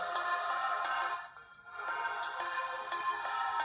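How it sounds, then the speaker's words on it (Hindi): Music plays from the small built-in speaker of a Fire-Boltt Infinity smartwatch, a thin, tinny melody with regular bright note onsets and a short dip in the middle. "म्यूजिक जो है प्ले हो रहा है स्मार्ट वॉच में।"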